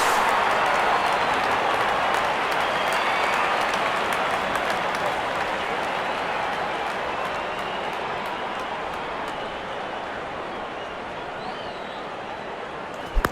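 A large cricket crowd at an India versus New Zealand match applauds a six with a broad, sustained roar of clapping that slowly fades.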